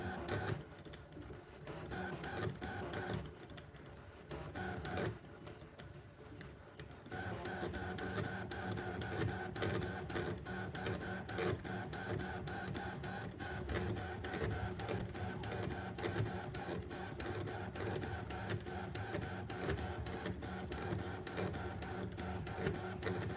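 A Brother ScanNCut machine draws a birthday card design, a steady mechanical whir with rapid rhythmic ticking that grows busier after a few seconds and runs on continuously at close range.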